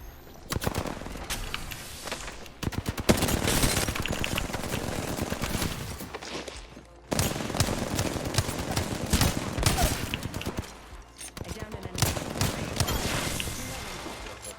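Rapid gunfire in Apex Legends, with dense bursts of automatic and repeated shots filling most of the stretch in loud, continuous volleys, broken by brief lulls around midway and near the end.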